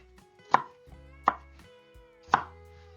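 Three crisp knife chops cutting food in half on a cutting board, evenly spaced and close, in a quiet kitchen with no talk.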